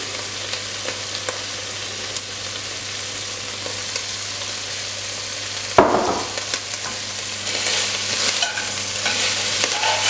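Shallots sizzle loudly in a pan with beef juices for a Vietnamese beef stew, a dense continuous hiss close up, broken midway by a sharp clatter as they are stirred, after which the sizzle swells a little.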